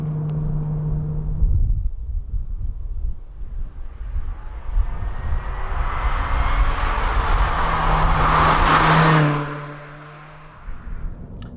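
Toyota Yaris GRMN accelerating, a steady rising intake roar with rumbling engine drone building for several seconds, then dropping away abruptly as the throttle lifts.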